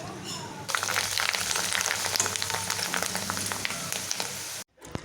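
Spicy potato bhungra deep-frying in hot oil: a dense, close crackling sizzle bursts in suddenly and holds steady. It stops sharply near the end.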